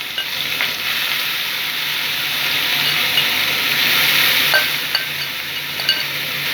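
Banana stem (thor) pieces fry in oil tempered with dried red chilies and whole garam masala, a dense, even sizzle throughout with a few faint utensil clicks and no speech.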